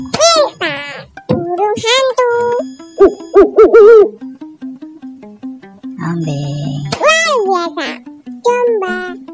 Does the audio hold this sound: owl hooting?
yes